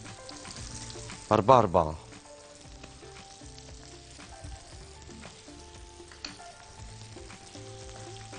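Minced meat pies hiss and bubble as they fry in oil, a steady close sizzle with a short burst of a voice early on and occasional light clinks of handling.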